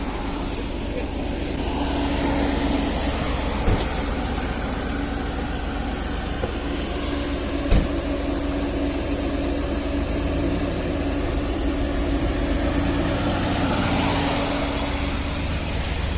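A car with worn engine bearings drives off toward a village, its engine rumbling low and steady for a long stretch, with a couple of sharp knocks and faint voices in the background.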